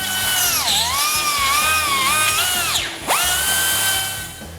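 A power tool cuts loose the stock grille shell for a T-Rex X-Metal grille install, giving a loud high whine that rises and falls in pitch, then drops sharply before spinning back up.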